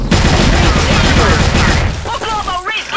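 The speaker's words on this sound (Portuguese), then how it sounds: "Laurinha deu 32 tiros de Barret" Barrett sniper rifle fire in a shooting video game, a dense loud barrage of overlapping shots and booms for about two seconds, then quieter game effects with speech.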